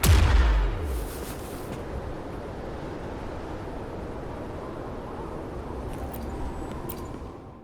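Tacitite fulminate explodes in the Wuthering Waves video game: one loud, deep blast at the start fades into a long rumbling, hissing tail of debris and wind noise, with no voices.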